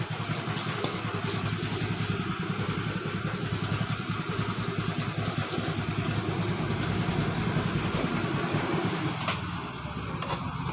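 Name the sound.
motorcycle engine idling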